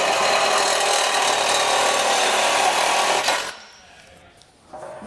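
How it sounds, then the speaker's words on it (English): A power saw cuts straight down through a plastic bumper on a 2014 Volkswagen Jetta, a loud steady grinding rasp for over three seconds before stopping abruptly, followed by quieter handling sounds. "we're just going to go ahead and cut this straight down"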